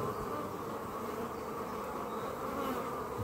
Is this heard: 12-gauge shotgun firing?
no